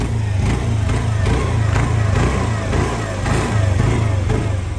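A 2020 Hero Maestro scooter engine runs close by, a steady mid-pitched putter that swells and eases with light revving throughout.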